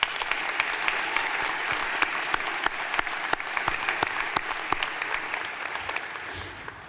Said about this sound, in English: give all the West Warwick High School teachers a round of applause